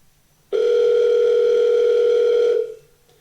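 A steady, loud dial tone hums for about two seconds after a brief quiet start, then fades out, with no voices over it.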